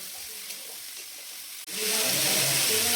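Figs dropped into hot oil in a pan with fried fish and bay leaves, bursting into a sudden loud, close sizzle after a quiet lead-in, then hissing steadily.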